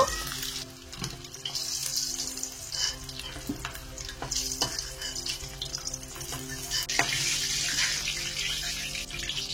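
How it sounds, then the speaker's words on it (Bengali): Hot oil frying in a pan during egg biryani cooking, with eggs just browned and onions about to go in; a steady, dense sizzle and crackle runs throughout, with occasional clinks of stirring, close and fairly loud, no talking. "এবার আমি ওই তেলের মধ্যে কিছু পেঁয়াজ ভেজে রেখে দেব"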